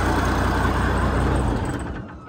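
A tractor engine idles loud and close with a steady low rumble, then winds down and cuts off, leaving a fading tail.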